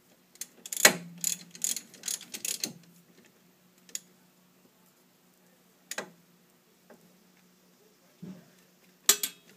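A hand ratchet snugs up bolts on the front wheel hub of a 2002 Saturn, with a quick burst of close clicking ratchet strokes followed by sparse single clicks and metallic taps in a quiet garage.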